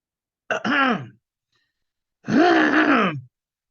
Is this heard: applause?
no